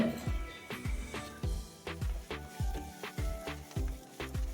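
Tomatoes and coconut sauté quietly in a pan for a fish curry while a utensil taps and scrapes in a steady, repeating rhythm.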